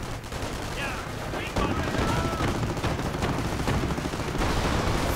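Gunfire in the strategy video game Company of Heroes, with dense bursts of rifle and machine-gun shots crackling continuously through a busy battle soundscape.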